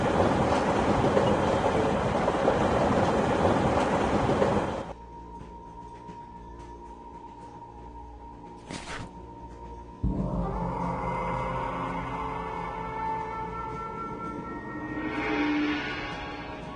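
A moving train rumbles loudly in Secrets of the Dragon Wheel, then drops to a steady hum with a faint tone before the rolling clatter returns.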